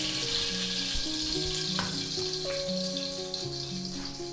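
Garlic sizzles in a large wok of reused frying oil for chicken afritada, a steady moderate frying hiss under tonal background music, with light stirring.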